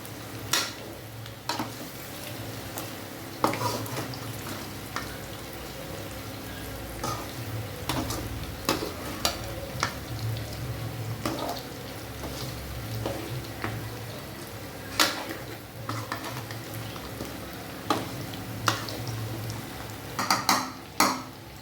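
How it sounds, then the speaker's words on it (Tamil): Metal spoon scraping and clinking against a pan as chicken gravy is stirred over the stove, with a soft steady sizzle underneath and repeated irregular knocks close by, no voices. "எல்லா சில்லிலையும் ஃப்ளேவர் படுற மாதிரி கிண்டி விடுங்க"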